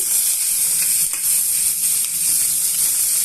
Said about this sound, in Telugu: ఇప్పుడు ఇందులోనే సన్నగా తరిగిన ఉల్లిపాయ ముక్కలను వేసుకోవాలి